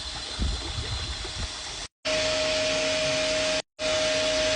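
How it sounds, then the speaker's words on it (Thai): A water pump runs in a hybrid solar and mains powered water system, a steady close mechanical hum with a faint tonal whine, broken by two brief cutouts, and running water can be heard near the start. "เสียงเครื่องกับปั๊มทำงานนี่เป็นไฮบริดอยู่นะครับ"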